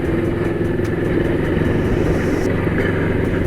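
A Moto Morini XCape 649 motorcycle rides over rough, broken ground, its engine giving a steady close-up mid-pitched drone with rumbling road and suspension noise underneath.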